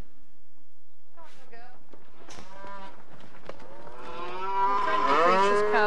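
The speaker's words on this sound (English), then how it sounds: "Sounds as if the cows are here already." Several cows moo in succession nearby, the low drawn-out calls overlapping and growing louder toward the end.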